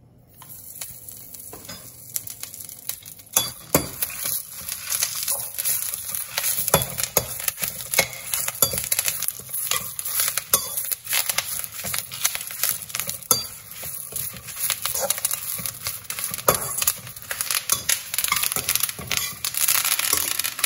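Bitter gourd pieces fry in a little oil while being stirred, a continuous close sizzle with frequent scraping and clattering strokes of the spatula against the pan, no voices over it.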